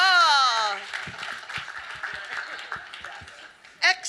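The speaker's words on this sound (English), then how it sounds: "Let's give them a big round of applause." Audience applause at a synagogue Passover seder, a tonal sung or voiced note giving way to light scattered clapping from a small gathering, with some chuckles and a burst of voice near the end.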